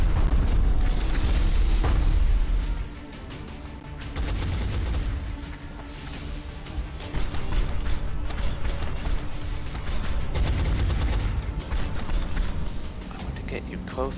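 Gunfire and heavy booms from soldiers shooting in the turn-based strategy game XCOM: Enemy Within, firing conventional weapons, with loud bursts at the start, a dip, then continued rolling impacts and explosions.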